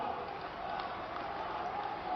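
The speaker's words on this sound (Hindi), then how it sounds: "मैं चाहूंगी सभी के लिए आप एक बार जोरदार तालियां बजा दें।" Crowd at a government medical college inauguration event applauding, a continuous even roar of clapping hands with a murmur of voices, steady in loudness throughout.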